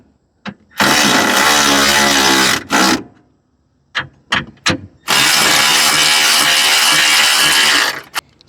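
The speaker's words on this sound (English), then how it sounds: "Tighten the bracket down." Car battery hold-down bracket being tightened with a ratchet: two long, loud bursts of rapid clicking separated by a few short clicks, close up with no talking.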